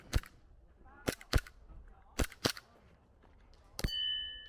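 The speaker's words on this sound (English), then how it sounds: "The sound of gunfire rings out over a military base on Taiwan's Jinmen Islands" Gunfire at a military base on Taiwan's Jinmen Islands: six sharp, fairly distant shots crack at irregular intervals, the last followed by a brief ringing tone.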